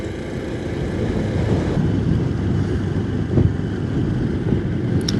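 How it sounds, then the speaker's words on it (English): Icy north wind buffeting the microphone while riding a Honda Super Cub C125 motorcycle, a steady loud rumbling roar of wind noise with low engine drone underneath, continuous with no talking. "Icy north wind."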